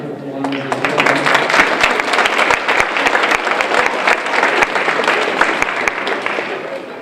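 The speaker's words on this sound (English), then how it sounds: "So give them a round of applause as well." A theater audience at a chemistry magic show claps, dense and steady for about seven seconds, sharp hand slaps merging into a loud, even roar with a crowd murmur beneath.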